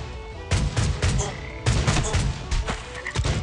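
Gunfire in Swamp Attack 2 comes as rapid clusters of booming shots in two main bursts with scattered follow-up hits, loud and close against faint game background.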